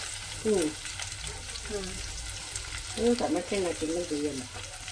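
Drumstick curry (nugge kayi palya) fries over a low flame with a continuous sizzle, while voices talk intermittently over it.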